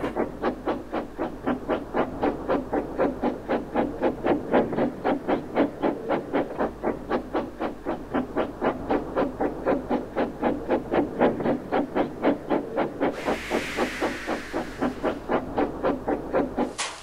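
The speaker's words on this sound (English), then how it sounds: "The driver soon stopped the train" A steam train chuffs in a fast, steady rhythmic beat with hissing throughout, and a burst of louder steam hiss near the end as it comes to a stop.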